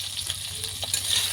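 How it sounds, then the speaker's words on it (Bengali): Eggplant pieces frying in hot oil in a pan, giving a close, steady sizzle and crackle throughout with no talking. "বেগুনটা এমনি হলুদ হয়ে গিয়েছে, লাল করে একটু ভেজে নেব।"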